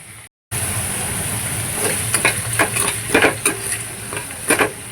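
Tomato and chili get sautéed with onion in a pan, a continuous sizzle broken by repeated scraping stir strokes that grow more frequent toward the end, close up and with no voices.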